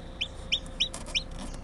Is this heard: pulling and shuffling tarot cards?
no